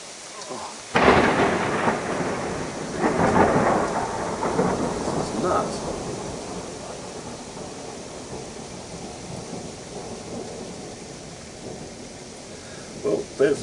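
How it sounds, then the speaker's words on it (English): Thunder rolls in a long, loud rumble over a storm of hail or sleet in Blackheath, with steady icy patter continuing as the thunder fades and a few sharp knocks near the end. "call it thunder hail or thunder sleet."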